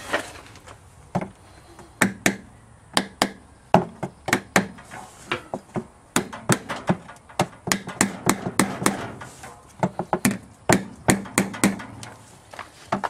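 A hammer taps repeatedly on a tool, driving a seal into a Maytag Neptune washer during bearing replacement, sharp metallic knocks in irregular bursts of quick strikes, close and fairly loud, with no voices.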